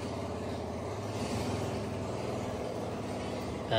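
A car engine hums steadily nearby beside roadwork, a continuous low rumble of passing traffic and background noise with no clear pause.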